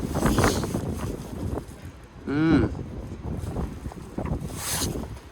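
Gusty outdoor wind rumbling and buffeting the microphone around a worksite with a Scania dump truck, with a short animal-like call or squeal in the middle and varying gust loudness.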